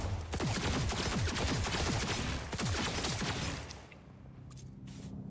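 Rapid bursts of gunfire from a new gun in Cyberpunk 2077, loud, dense repeated shots over about four seconds before fading to quieter background.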